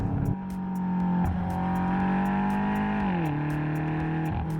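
A 2020 BMW M8 Competition under way, its engine droning at a steady, strong pitch that sags lower as it shifts, with faint rhythmic ticking above; no talking.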